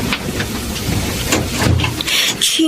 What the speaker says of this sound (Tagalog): Ang lakas ng ulan, ha?